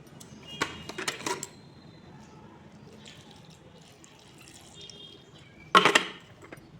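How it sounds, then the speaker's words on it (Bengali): Raw green bananas rinsed by hand in salted water, with splashing, sloshing bursts near the start and again just before the end, separated by quieter dripping stretches. "তারপর আমি কাঁচা কলাগুলোকে জল আর লবণ দিয়ে ধুয়ে নিচ্ছি"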